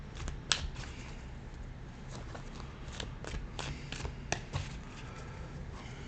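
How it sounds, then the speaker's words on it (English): Tarot cards being shuffled in the hands, a steady run of soft riffling and papery flicks with a few sharper snaps, close and fairly quiet with no voice over it. "These cards aren't really wanting to shuffle here."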